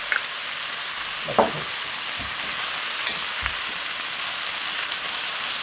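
Sliced cabbage stir-frying with minced garlic and green onion in a pan over high heat, a steady, dense sizzle with a few clacks of a utensil stirring, while someone briefly speaks.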